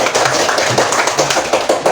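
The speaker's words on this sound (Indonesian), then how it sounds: "Tepuk tangan untuk kelompok 1." Classroom applause for a student group after their presentation, a steady patter of many small hands clapping close by, with no voices over it.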